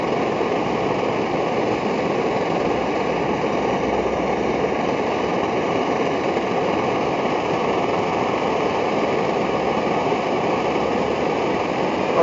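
A kerosene camping stove burner running on Coleman fuel while its generator tube preheats, giving off a loud, steady, unbroken roaring hiss.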